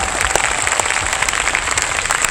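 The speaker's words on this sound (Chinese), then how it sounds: "给我们自己台湾掌声鼓励鼓励" Outdoor audience at a jazz festival stage in a Taipei park applauding, dense continuous clapping from a sizeable crowd, steady and loud throughout.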